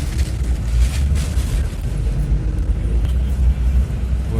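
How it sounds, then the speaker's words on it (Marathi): A passenger bus pulls away from Kolhapur on the way to Mumbai, heard from inside as a loud, low rumble of engine and road noise that stays fairly steady, with no one speaking. "गाडी आता आमची निघाली बरोबर 8:30लाच निघाली."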